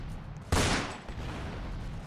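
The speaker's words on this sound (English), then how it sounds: "I'm gonna shoot at them." A single sharp burst of gunfire from a Roblox Fortnite shooter game cracks out loudly after a quiet start, then trails into a lingering rumble and softer background game noise.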